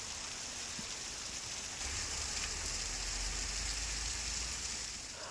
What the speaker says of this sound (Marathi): मुंबईमध्ये मुसळधार पावसाने हजेरी लावली